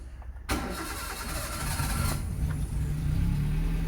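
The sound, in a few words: Maruti Zen car engine starting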